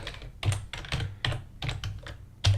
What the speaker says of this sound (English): So right here you can type debug log, debug.log,